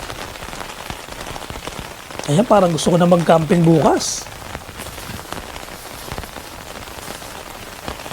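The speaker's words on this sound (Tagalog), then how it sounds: "Naulan, ang sarap dyan." Rain patters steadily on surfaces around a campsite, a dense close hiss throughout, while someone speaks briefly over it midway.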